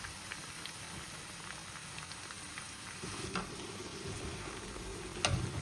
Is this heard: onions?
yes